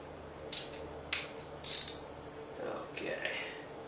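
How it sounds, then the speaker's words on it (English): A ratchet wrench clicks in short bursts while tightening a bolt during display installation on a Stamina Cardio exercise bike, the ratcheting bursts fairly close and moderately loud in a quiet room. "Ratchet wrench."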